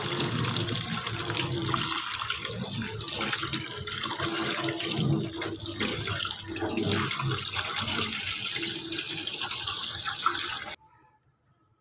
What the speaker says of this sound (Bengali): ঠান্ডা পানি দিয়ে ধুয়েও নেব।